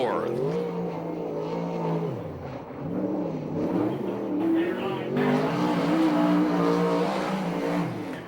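A USAC/CRA sprint car laps a dirt track at Ventura, California, smoke trailing from its right rear, its loud engine droning steadily with pitch rising and falling through the corners, while a voice talks over it.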